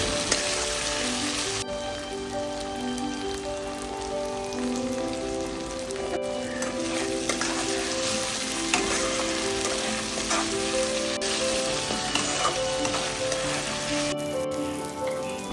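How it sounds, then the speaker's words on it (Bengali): Chopped tomatoes with a spoonful of salt fry in a pan, a steady rain-like sizzle running the whole time with occasional stirring, near and constant, while a faint tonal background plays and no one speaks. "এর পর কেটে রাখা টমেটোগুলি দিয়ে তার উপর দিয়ে এক চামচ নুন দিয়ে দেব যাতে টমেটোটি ভালোভাবে ভাজতে ভাজতেই"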